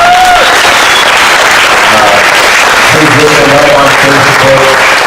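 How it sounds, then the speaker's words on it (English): An audience at a community birthday celebration in a fine arts center breaks into loud, sustained applause, with a voice talking over the clapping. "Please give a round of applause for"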